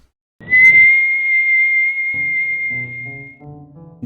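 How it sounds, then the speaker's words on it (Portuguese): A single eerie, high, steady whistle sounds near the house and holds one sustained pitch for about three seconds, then gives way to soft, low musical tones. "aquele assobio estava ficando cada vez mais próximo"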